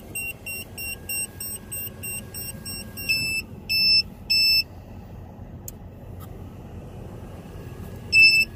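Car warning beeper sounding in runs of short high beeps, then a few longer tones, close and clear over faint engine hum.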